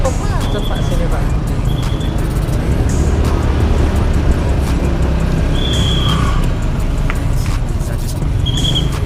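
Dense, slow-moving city road traffic in Indonesia with a steady rumble of cars and buses, occasional brake hisses and short high tones, while people talk nearby throughout.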